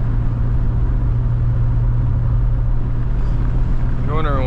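A classic Nissan 240SX with a manual transmission cruises slowly, its engine a loud, constant low rumble heard from inside the car, with a brief warbling chirp near the end.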